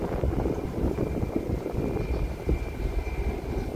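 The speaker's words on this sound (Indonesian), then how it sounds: "Sudah mulai mengudara, sudah mulai ya siap-siap ambil haluan menuju arah barat." A passenger airplane climbing out after takeoff from Sultan Hasanuddin International Airport in Makassar, its engines giving a steady, heavy rumbling roar heard from on board.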